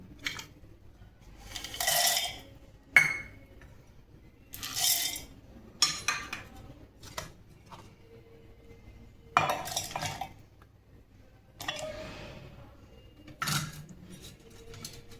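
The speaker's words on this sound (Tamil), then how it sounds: "நம்ம இது வந்து மிக்ஸி ஜாருக்கு மாற்றிடலாம்." Roasted peanuts tipped into a mixer jar, giving several separate bursts of dry rattling and clinking, spaced out, close and fairly loud, with quiet gaps between.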